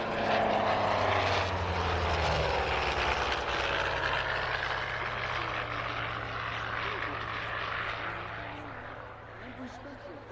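Loud, steady engine roar of a MiG-17F jet performing at a sunset air show, holding for the whole stretch with a broad rushing hiss that eases slightly toward the end.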